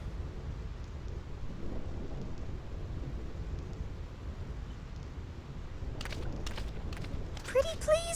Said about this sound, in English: This storm never stops.